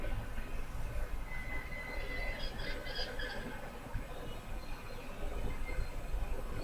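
Train ride in the video game Syberia, a continuous rumbling clatter of rail wagons with faint wheel squeals and high metallic tones drifting through the middle.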